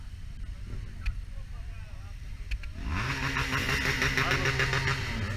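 Engines rumble amid a motorcycle rally crowd, then a nearby motorcycle starts up and revs, its note climbing and holding steady for the last few seconds; people talk underneath.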